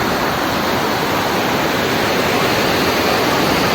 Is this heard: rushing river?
yes